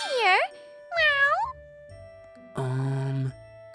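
A stray cat in a park gives two short, bright meows in quick succession, then after a pause a longer, flatter cry. The sounds are close and clear, with near silence in between.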